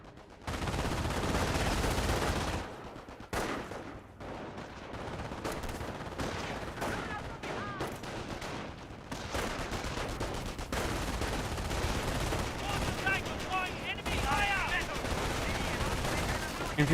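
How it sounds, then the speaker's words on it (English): MP42 machine gun in Company of Heroes, firing in loud, sustained bursts amid battle noise, with someone commentating over it throughout. "MP42 firing away."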